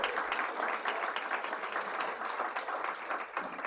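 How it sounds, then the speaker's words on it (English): A crowd at a political event applauds warmly, a dense and even wash of clapping that holds steady throughout with no talking. "Give them a big round of applause."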